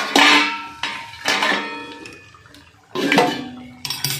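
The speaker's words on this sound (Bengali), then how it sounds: "এবারে আমি ঢাকনাটা খুলে নিচ্ছি।" Metal pot lid lifted off a cooking pot of curd-cooked hilsa fish, giving a few sharp clanks and scraping clinks at intervals, close and fairly loud with no talking.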